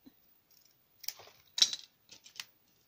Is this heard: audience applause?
no